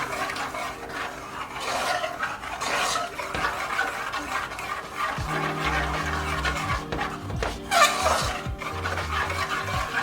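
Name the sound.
blending tomato bisque ingredients together in a pot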